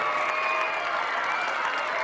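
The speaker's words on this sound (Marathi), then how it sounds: "टाळ्यांचा बाजार झाला पाहिजे" Audience at a village Maha Minister Paithani game show applauding, a steady wash of many hands clapping, loud and sustained with a faint tonal hum beneath.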